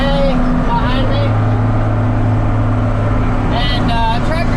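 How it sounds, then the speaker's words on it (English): A farm tractor hauls a full load of hay along hilly roads, its engine a loud steady low drone throughout with a person talking over it. "and tractor's pulling pretty good."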